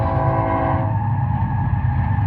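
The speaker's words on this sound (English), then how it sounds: "You can hear the train going by." A train passing through the desert, its heavy low rumble and rolling rail noise sustained and fairly close, with a droning horn-like tonal layer steady over the top and no voices.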